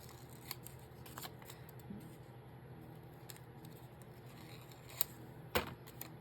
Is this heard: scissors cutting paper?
yes